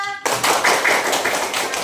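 A classroom group applauds at a teacher's prompt, a dense burst of clapping from many hands starting abruptly and continuing steadily, fairly close and loud throughout.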